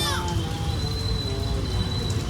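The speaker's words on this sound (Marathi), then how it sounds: "आलो आणि बघतो तर काय पाऊस, जोरात पाऊस आला." Heavy rain pours down at a roadside bus stop, a steady dense hiss filling the whole stretch, with faint voices and children's chatter mixed in underneath.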